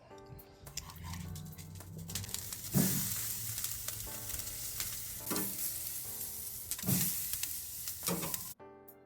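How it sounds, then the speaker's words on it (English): Marinated skirt steak sizzles over open flames on a charcoal grill, a steady close hiss and crackle running throughout with a few louder pops and flare-ups along the way. "I'm going to let those flames kiss the meat for about another 15 seconds"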